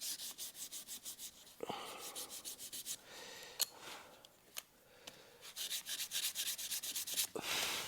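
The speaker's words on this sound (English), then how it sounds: "I just want to relieve these black veneers on each side with a little bit of sandpaper." Sandpaper rubs by hand in quick, steady back-and-forth strokes across the black wood veneers of a classical guitar under construction. The scratchy strokes are faint and close, with a brief pause in the middle before the rhythm picks up again.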